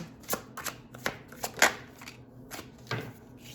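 A deck of tarot cards is shuffled by hand in a string of crisp riffling snaps and soft flutters, close and irregular, with no talking.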